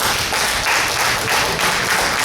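A book-talk audience breaks into loud, dense applause, a continuous wash of many hands clapping close and steady throughout, with no voices above it.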